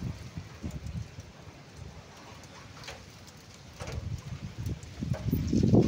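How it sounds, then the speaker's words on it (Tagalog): Gusty typhoon wind with rain buffets a barracks and papaya trees in Pampanga, a rough roaring rumble that builds louder toward the end. "May kasamang ulan, yung bagyo."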